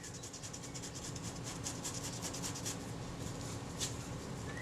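Old leatherette being scraped off the body of a Kodak Retina IIIC camera, a steady, close, continuous rasping scrape that runs evenly throughout with no speech.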